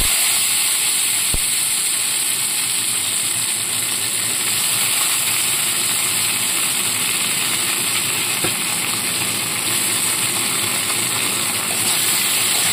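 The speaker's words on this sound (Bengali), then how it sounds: "ভালো করে পেঁয়াজ আর টমেটোটা একটু হালকা ভেজে নেব।" Chopped onion and tomato frying in a little oil, giving a steady, even sizzle with hiss that holds for the whole stretch, close and fairly loud, with no talking over it.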